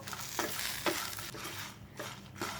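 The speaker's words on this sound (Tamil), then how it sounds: "கருவேப்பிலை இது எல்லாத்தையும் சேர்த்து நல்லா வறுத்துக்கலாம்." Chana dal and curry leaves dry-roasting together in a pan over medium flame, a soft constant sizzle with several rhythmic scraping strokes of a spatula, close but quiet.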